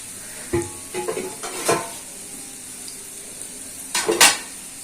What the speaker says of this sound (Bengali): আমি কড়াইতে তেল দিয়ে দিয়েছি। এবার শুকনো লঙ্কাগুলো ভেঙে দিয়ে দিলাম, তেজপাতা দিয়ে দিলাম